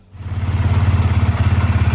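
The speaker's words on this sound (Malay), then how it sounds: "saya nak start motor ni, test kejap" A Yamaha FZ150i motorcycle engine kicks into life after electrical repair work and settles into a loud, steady, throbbing idle close by.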